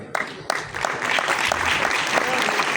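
An audience at an awards ceremony honoring Waheed Murad breaks into applause, a few sharp claps at first swelling into steady, dense clapping from a sizable crowd.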